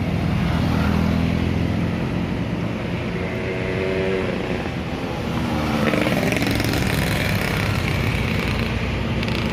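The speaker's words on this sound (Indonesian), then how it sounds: "Wih, masih enak suara mesinnya friend." Old Sumatran bus engine idling, a low steady diesel rumble and throb held close and continuous, with a slight rise in revs partway through and no talking.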